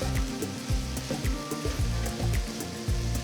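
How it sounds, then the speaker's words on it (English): Potatoes and onions frying in a pan produce a soft, steady sizzle with occasional bubbling pops, close and quiet, with no talk. "you must always fry the potatoes first and then add the onions"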